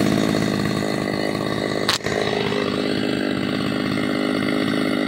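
A Stihl chainsaw fitted with 3/8 low pro carbide chain cuts wood, its engine droning loud and steady close by, with one brief dip in the middle of the cut.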